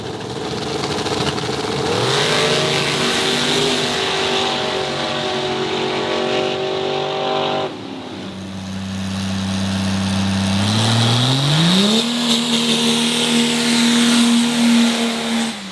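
Race car engine revving hard and held at high RPM during race week, a loud, continuous harmonic roar that dips briefly while shifting gears, then climbs again and sustains close by.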